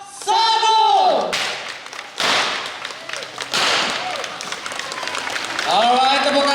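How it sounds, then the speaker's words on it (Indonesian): An audience at an MOU signing event claps in bursts between loud sweeping tones, with strong music or effects and some voices mixed in. "Mari kita beri tepuk tangan yang sangat meriah."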